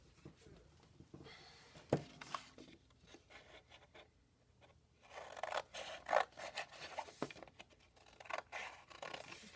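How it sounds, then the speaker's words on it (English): Scissors snip through the extra paper of a square sheet during a mandala craft, giving several soft, close cutting and rubbing crunches in quiet bursts, the busiest stretch coming in the second half. "you are going to take your scissors and you're going to cut off that extra piece"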